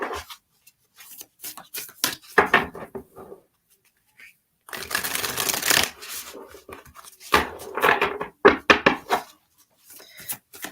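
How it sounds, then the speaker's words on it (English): Psychic reading cards shuffled by hand in two riffling bursts, a dense papery flutter each time, close up with brief taps and handling noise before and between. "I'm going to do 2 shuffles, and then we're going to pull one for you, Tammy."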